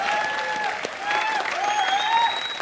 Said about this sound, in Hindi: नेहा धूपिया के लिए जोरदार तालियां।